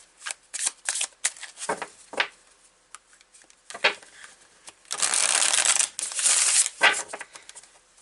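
Close-up shuffling of a tarot deck: quick riffles and flicks, then a longer cascading riffle near the end.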